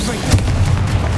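A Confringo fire spell blasts in the Hogwarts Legacy video game, a short booming burst with a low rumbling body that stays loud throughout about a second.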